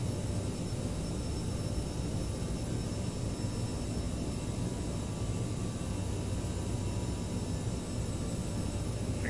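A CRJ900 jet airliner on landing approach to runway 24, gear down and flaps fully extended, with a steady, dense engine and airflow roar heard from the cabin throughout, unbroken and without speech.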